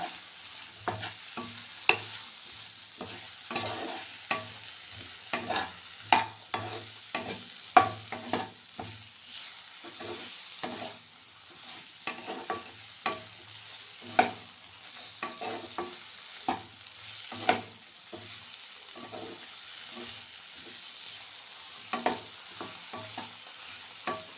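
Vegetables frying with turmeric in a pan for vegetarian khichuri, stirred with a spoon that gives irregular sharp scraping knocks over a soft, low sizzle, close and alone without talk.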